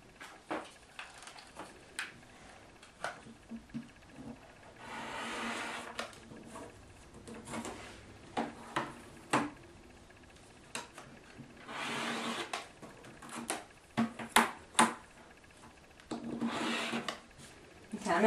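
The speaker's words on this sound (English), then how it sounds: "I'm going to cut a square just big enough for this letter." Scissors cut a square of burlap fabric for a fall banner: a run of crisp snipping and rustling bursts, some longer swishy cuts in between, close and moderately loud with no talk.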